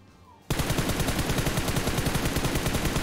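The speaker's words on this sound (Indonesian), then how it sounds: "Di sini kok ada tembakan?" Gunfire in a video game, rapid automatic fire that bursts in suddenly after a quiet moment and then continues as a dense, loud, evenly spaced rattle of shots.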